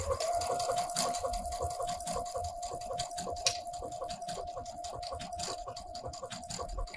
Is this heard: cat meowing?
no